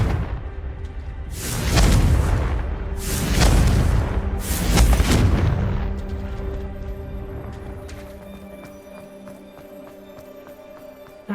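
A Confringo fire spell in Hogwarts Legacy goes off as three loud, booming blasts in quick succession. A long rumbling decay and quieter ambient tones follow.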